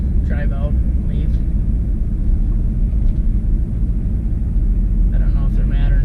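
A turbo Cadillac Escalade rolls slowly onto a weigh scale with a low, steady engine rumble, while someone talks briefly at the start and near the end.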